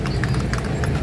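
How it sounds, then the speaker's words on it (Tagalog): Horse hooves clip-clop in a quick, steady rhythm on a paved walk at a Manila bayside promenade, loud and close against a busy background. "Horse."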